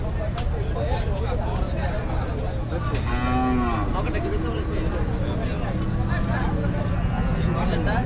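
Cattle at a Qurbani livestock market in Ashulia, with a loud, drawn-out moo rising near the middle over steady crowd babble and people talking throughout.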